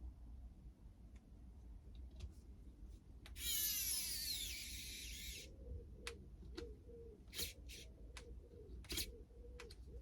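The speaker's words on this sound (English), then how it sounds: "loving the screwdriver. It's a bit smooth or slippery, but it's very torquey." An electric screwdriver drives screws into an INJORA RC body for a Camel Trophy build, giving one close, buzzing whir of about two seconds, followed by quieter clicks and taps.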